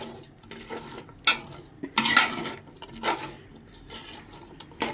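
A ladle scrapes and stirs through chicken pickle mixed with masala powder in a metal pot, giving several irregular close scraping and clinking strokes with short pauses between them, with no talking.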